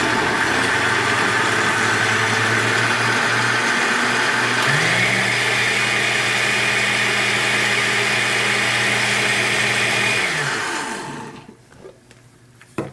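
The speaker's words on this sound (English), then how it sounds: "just to prevent any splashing when you turn the blender on" A kitchen blender pureeing fresh garden tomatoes, loud steady whirring motor that shifts up in pitch partway through as the speed rises, then winds down and stops near the end.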